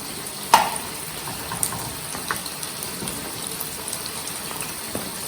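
Potatoes and paneer frying in a pan for a rustic sabzi, giving a steady soft sizzle with a few light clicks and stirring taps, close and even throughout.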